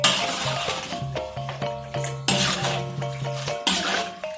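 Stirring washed bean leaves and other ingredients in a cooking pot, with repeated clinks and scrapes of utensil against metal in an irregular rhythm, close and moderately loud.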